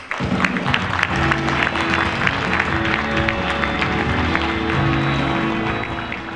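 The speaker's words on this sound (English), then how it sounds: "So would you please give him a warm round of applause, Marcus." Audience applause welcoming a speaker at a camera trade show, continuous clapping from a crowd layered over music with tonal bed underneath.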